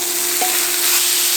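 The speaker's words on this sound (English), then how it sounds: "Now we're going to add our chopped ribeye." Chopped ribeye steak hitting a hot pan of nearly cooked onions, producing a loud, steady, close sizzle and hiss that fills the whole moment with no talking.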